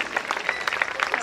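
Short burst of audience applause at the opening ceremony of a dance event, dense overlapping claps at close range with a voice talking over them.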